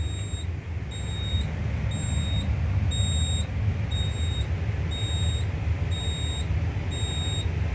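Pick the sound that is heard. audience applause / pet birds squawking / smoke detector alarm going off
smoke detector alarm going off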